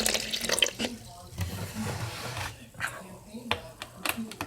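Vinegar is poured for a baking soda reaction, giving a splashy, trickling liquid sound in short bursts, with a voice talking over it.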